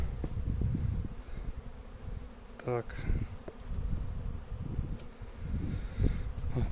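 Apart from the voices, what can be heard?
honey bees buzzing at a hive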